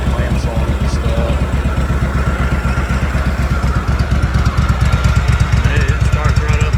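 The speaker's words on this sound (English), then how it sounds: "It starts right up like brand new." A Kohler Command twin-cylinder engine running on a newly fitted carburetor, idling with a steady, loud, close-up chugging beat throughout.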